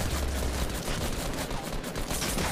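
Rapid gunfire in a Fortnite Battle Royale match, a dense, continuous volley of shots filling the whole stretch at steady loudness with no talk over it.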